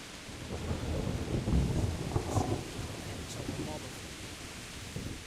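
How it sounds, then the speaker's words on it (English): Rain and thunder from the medieval video game Kingdom Come: Deliverance, a steady wash of rainfall with low rolling rumbles of thunder swelling mid-clip, with faint talk mixed in. "I like rain in this game."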